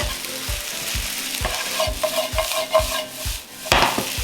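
Loud sizzling and frying in a hot wok as fish sauce hits the hot pan sides while cooking Jinhua ham fried rice, with stirring and scraping sounds throughout and no talking.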